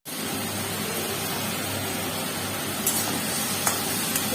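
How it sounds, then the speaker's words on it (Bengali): Chicken frying in a pan, a steady loud sizzle that runs unbroken throughout with a few faint clicks, and no voices. "সবকটা চিকেন ভেজে নেব।"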